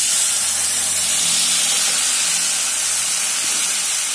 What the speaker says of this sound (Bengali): এবার মশলাটা আমি দিয়ে দেবো। যে মশলাটা বানিয়ে রেখেছিলাম সেই মশলাটাই দেবো।